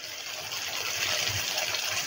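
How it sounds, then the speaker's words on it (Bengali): Chicken marinade masala is poured into onion paste in one steady liquid gush lasting a couple of seconds, close and fairly loud, with no talk. "এবার তার যে মশলাটা ছিল এটা এর মধ্যে ঢেলে দেবো"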